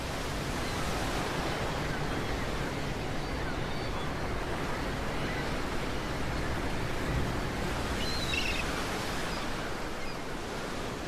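A wild sea churns around a ship in the stormy sub-Antarctic latitudes known as the Screaming Sixties. The surf and wind form a continuous, dense roar that stays loud and unbroken throughout.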